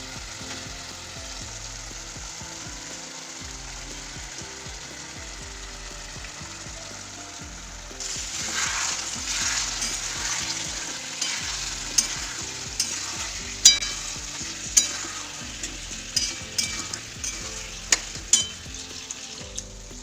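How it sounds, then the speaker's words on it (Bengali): Chicken pieces frying in spice masala in a home kitchen, a faint background hum at first, then a louder sizzle rises with repeated sharp scrapes and clanks of the spoon against the pan, no talking. "এরপরে মশলাটা ভালো করে ফুটিয়ে নেওয়ার পর এটা মাংসটা দেবো ভালো করে কষে নেব"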